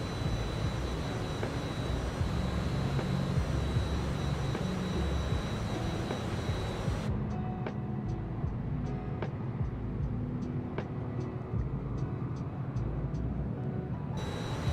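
Fokker F28 jet engines in Microsoft Flight Simulator 2020 give a steady, broad jet roar with a thin whine on top. Partway through, the sound turns muffled and duller, with faint regular ticks, and no one talks.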